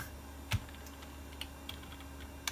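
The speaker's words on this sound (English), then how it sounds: "What are you even typing?" Sparse, faint keystrokes on an English-layout computer keyboard, one sharper tap standing out among a few light clicks in a quiet room, typed while setting up Windows 3.1 on an old PC.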